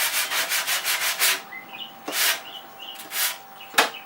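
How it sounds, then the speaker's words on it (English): Sandpaper rubbed by hand over wood on a Gerstner-style wooden tool chest, a quick run of close, rhythmic scratchy strokes followed by a few slower, separated passes. "And then take a little sandpaper."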